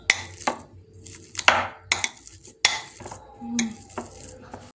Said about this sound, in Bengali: এবার আলুটাকে আমি ম্যাশ করে নিচ্ছি এই যে এটা দিয়ে